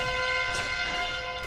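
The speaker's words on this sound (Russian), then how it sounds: "Это сигнализация Рошана была" A sustained, horn-like harmonic alarm tone signalling Roshan's respawn in Dota 2, steady and clear for just over a second.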